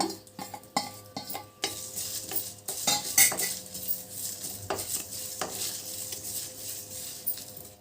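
Seeds tipped into a pan of roasting dry chillies and coriander, then stirred with a metal spoon: rapid clinks and scrapes against the pan over a light sizzle, close and busy.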